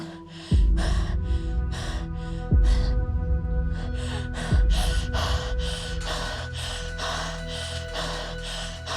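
A patient in a hospital drama struggles for air with rapid, harsh gasping breaths in a fast, even rhythm, close up, while three deep thuds sound beneath them.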